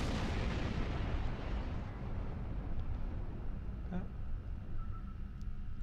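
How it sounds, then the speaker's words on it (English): Starship weapons fire during a Klingon raider attack in Star Trek Online, heard as a continuous rumbling barrage of blasts and explosions with faint tonal game effects above it, steady and loud throughout. "We're under attack by Klingon raiders."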